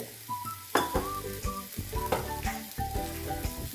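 Dosa sizzling in ghee on a hot pan, a steady close frying hiss with occasional light clinks of a utensil, set against a tonal background.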